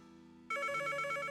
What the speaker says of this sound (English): Okay, that's the phone.